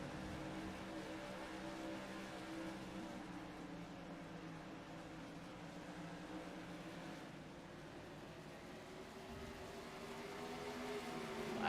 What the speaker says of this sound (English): Last lap by, Josh Oswald, fastest car on the track